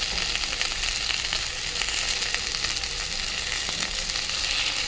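Fried onions hit a hot pan already holding prawns and eggplant, and a steady, dense sizzle of oil runs the whole time, close and even, with faint stirring scrapes now and then.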